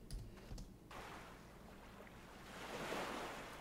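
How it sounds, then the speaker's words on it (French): A water sound effect added in editing gives a soft, steady rush of waves, faint and continuous, swelling slightly toward the end. "j'ai été rajouter un bruit d'eau"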